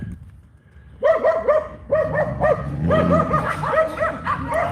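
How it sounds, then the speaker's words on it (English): Dogs bark close by in a quick, repeated string of sharp yips and bow-wows after a brief quiet start. The barking keeps on nearly without a break. "these dogs are driving me crazy."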